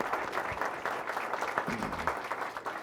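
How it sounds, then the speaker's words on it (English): A city council meeting audience applauds the ROTC Color Guard, a steady roomful of clapping hands lasting a few seconds at moderate distance. "Let's have a round of applause for the ROTC Color Guard."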